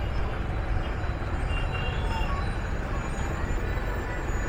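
Pilgrims' trucks pass through the busy Vishrantwadi chowk in a steady, dense roar of road traffic with a constant low rumble and no clear pauses.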